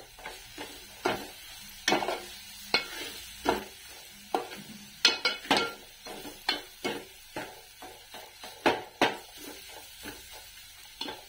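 Turmeric, salt and garam masala frying in oil with ground ginger, garlic, coriander and coconut for a village-style goat mutton rassa: repeated scraping stirs with a soft sizzle underneath, close and fairly quiet, no talking.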